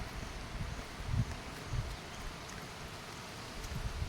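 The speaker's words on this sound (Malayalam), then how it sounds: "ഭയങ്കര കാറ്റാണ്" Strong wind blowing through a park, a low buffeting rumble with a few heavier gusts over a faint rustling background, no talk.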